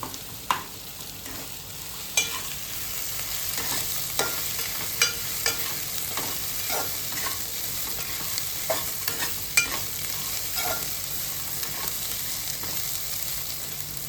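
Bitter gourd curry frying in a pan, with a spatula scraping and stirring through a constant soft sizzle; the stirring clicks and scrapes come close and at irregular intervals over about fourteen seconds, with no talking.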